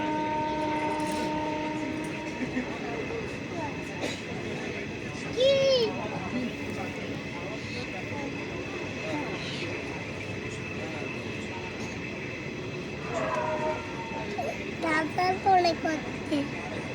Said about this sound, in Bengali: ট্রেনটা এক জায়গায় দাঁড়িয়েছিল, সেটা আবার শুরু হলো চালু